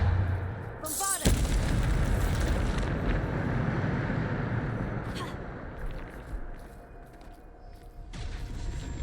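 A Bombarda spell explosion goes off in a Harry Potter video game, a loud booming blast with a long rumbling tail that lingers under game sound, followed by a sharp burst near the end.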